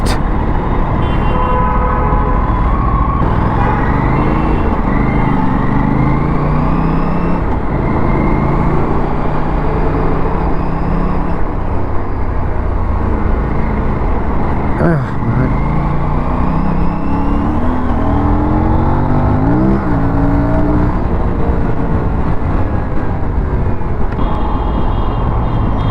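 Congested Delhi road traffic heard from an Aprilia RS 457 motorcycle, with a loud steady engine drone and repeated car and truck horns tooting all around, close and dense throughout.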